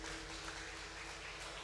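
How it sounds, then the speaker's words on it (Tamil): Clapping from a congregation at a Catholic blessing service, a steady, dense wash of hands that fills the whole short stretch at an even level with no voices over it. "கைத்தட்டு"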